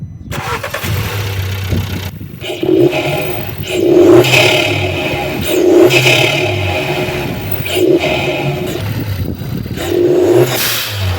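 Volkswagen Polo engine with a newly installed blow-off valve, revved repeatedly in loud, close bursts about every two seconds, each swell falling back toward idle with an airy release.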